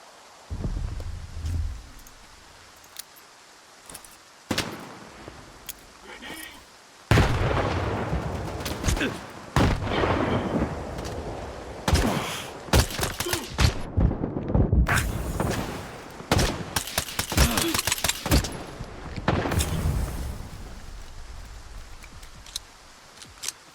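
Gunfire in S.T.A.L.K.E.R. 2: Heart of Chornobyl: sharp, loud shots in irregular bursts and single cracks, with quieter gaps between volleys.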